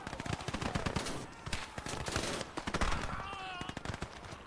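Machine-gun bursts crackle in the World War II game Gates of Hell Ostfront during a Soviet tank assault on German positions. The rapid volleys come in clustered bursts, with a faint wailing tone near the end.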